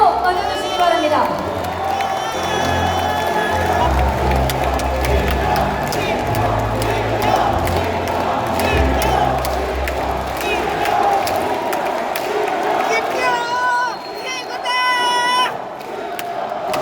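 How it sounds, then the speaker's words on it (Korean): Crowd at a Democratic Party convention in Jeonbuk cheering and applauding as a candidate is introduced, a loud sustained roar of voices and clapping with music in the background and scattered shouts. "뜨거운 박수로 맞아주시기 바랍니다."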